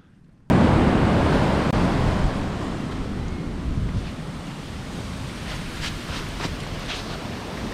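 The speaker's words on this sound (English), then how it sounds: "now we're on the Pacific shoreline once again." Ocean waves break on the Pacific shoreline in California, a loud continuous wash of surf that starts suddenly and runs on with wind buffeting the microphone.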